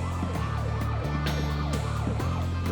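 A wailing emergency siren sweeps up and down in repeated cycles, steady and moderately loud, with no voices over it.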